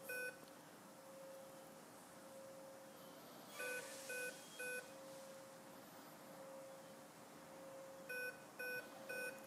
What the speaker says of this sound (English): you're going to wait for four beeps, which is your helicopter and governor mode